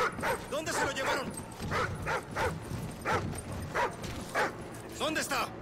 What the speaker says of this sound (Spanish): ¡Llévese este perro de aquí!